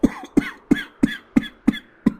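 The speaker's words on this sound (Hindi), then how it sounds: "सुबह से खांस रहा है?" A run of seven sharp, dry coughs spaced evenly about a third of a second apart, close and fairly loud, with no talking.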